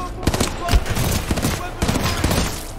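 Rapid bursts of video-game gunfire crackle close and loud in quick fusillades, under a voice talking.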